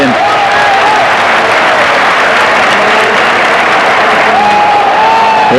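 A stadium crowd applauds and cheers a player at a 1989-90 Liga football match between Real Madrid and Osasuna, with a broad and steady wash of clapping that lasts throughout and no commentary over it.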